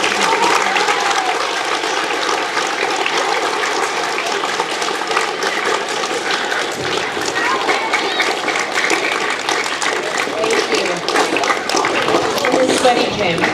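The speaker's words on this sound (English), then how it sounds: "can we have one huge round of applause" A school gym full of 5th grade students applauding after an online safety presentation, a dense sustained clatter of many hands with voices mixed in throughout.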